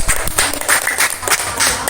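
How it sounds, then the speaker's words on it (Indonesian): Young schoolchildren in an elementary classroom clapping their hands for a presenting group, a short loud burst of dense, uneven claps. "Tepuk tangan dulu anak-anak."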